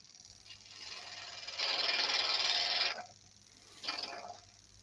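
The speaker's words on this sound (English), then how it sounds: "Because it's having to turn all that lot through this spindle that I'm cutting, through the stem, which I'm cutting to be fairly thin." Wood lathe turning a yew goblet, the tool cutting a thin stem: a steady broadband hiss of cutting rises for over a second, stops, then a shorter burst follows, close and moderately loud over a low hum.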